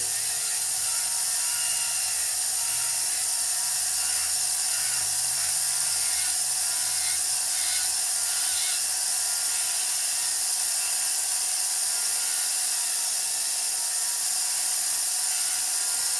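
Wax on a signet ring carving being trimmed, with a steady, loud, hissing mechanical whir that runs unbroken for the whole stretch, alone and without voices.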